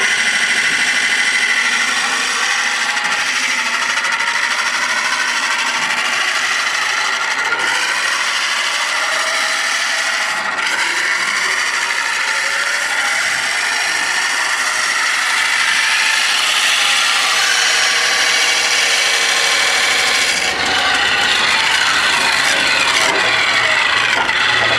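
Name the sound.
wood lathe turning a long thin spindle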